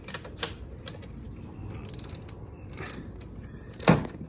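A socket ratchet loosens the spark plug on a Buddy 50 moped, giving a few separate near clicking bursts of pawl ratcheting with quiet gaps between them and a louder final click near the end.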